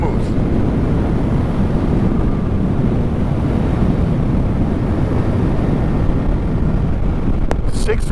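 A Yamaha MT-09 motorcycle cruising in sixth gear along backroads near Pattaya, a steady low engine drone buried under heavy, constant wind roar on the microphone.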